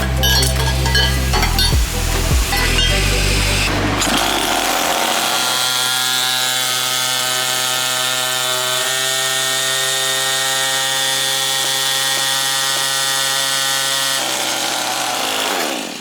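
A nitrous-fed 50cc budget kart engine on dyno rollers, first a rough, choppy burst, then a loud, steady high-pitched rev held for over ten seconds with a brief lift near the end, no voices.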